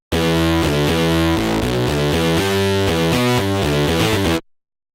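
Ohmicide distortion plugin applied to a dense, sustained musical part, giving a loud, saturated, gritty tone that runs continuously for about four seconds before cutting off abruptly.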